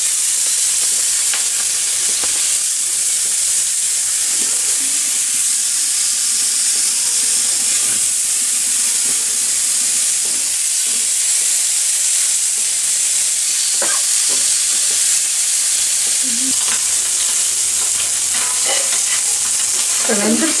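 Sardines fry in a pan with a continuous, bright hissing sizzle and scattered pops and crackles, steady and close for the whole stretch.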